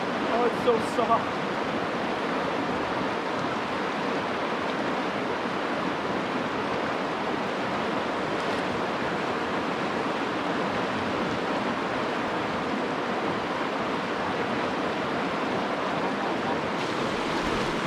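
Cold river water rushing near a hot spring in Idaho, a dense, steady wash of flowing water that fills the whole stretch at moderate level, with a few faint knocks near the start.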